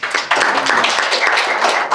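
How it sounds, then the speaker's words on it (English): Loud, dense applause from a crowd, continuous clapping filling the whole stretch without pause. "let's give them a round of applause"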